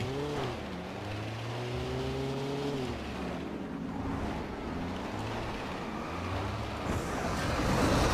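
Car driving in the Alan Wake game, a steady engine drone with rising and falling pitch as it revs and shifts, over rushing road and wind noise, loud throughout with no talk.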